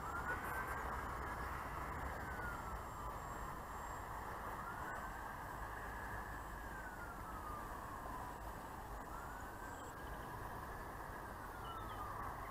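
The motor of a 1984 Vic Smeed Pulstar single-channel radio-controlled model plane drones faintly and far off as the plane climbs. A thin whine slowly rises and falls in pitch over a steady outdoor background.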